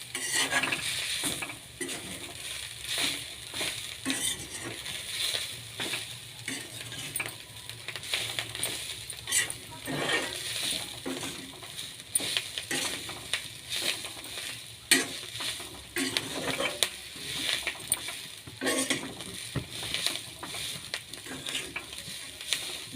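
Chickpea leaf greens being stirred in a sizzling pan: continuous scraping and clinking of a utensil against the metal, with frying crackle throughout and no voices.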